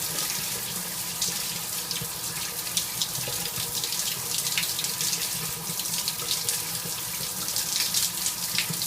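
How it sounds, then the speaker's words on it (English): Shower water streams steadily over a galah cockatoo, a close, continuous hiss of spray pattering down without pause. "Oh, she loves the shower."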